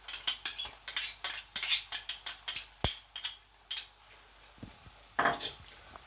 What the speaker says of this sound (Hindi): अब हम सबसे पहले इसमें लहसुन की पेस्ट जो है वो ऐड कर देंगे।